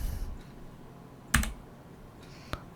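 A computer keyboard key pressed while editing in Adobe Premiere Pro, one sharp close click followed by a softer second tap a moment later, over a quiet background.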